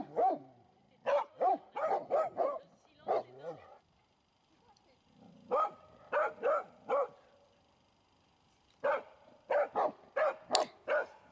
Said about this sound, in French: Ses aboiements sont très énervants